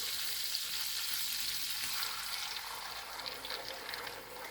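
A paste of tomato, green chili and ginger goes into hot oil with fried turmeric, a soft, steady hiss of frying that eases slightly toward the end, faint and with no voices.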